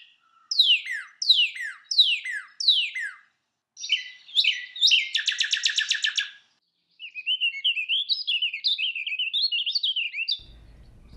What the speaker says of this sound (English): So when you hear that cardinal waking you up at 4 a.m.